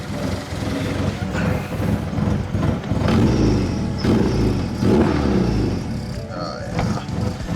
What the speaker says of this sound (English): So I'm going to let it just warm up with this fat, choppy idle